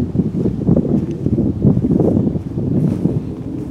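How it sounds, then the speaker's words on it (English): Wind blowing through a garden in April, a loud steady buffeting rumble on the microphone throughout, with no talking. "And right on cue, the wind is picking up as soon as I grab the camera."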